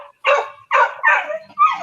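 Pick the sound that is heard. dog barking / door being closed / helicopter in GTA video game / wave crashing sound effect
dog barking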